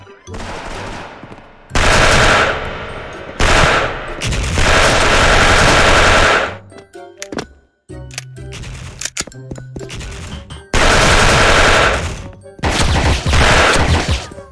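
A Platinum FAMAS 2nd Gen rifle fires in the shooting game SF in loud, sustained automatic bursts, separated by short gaps and sharp single shots.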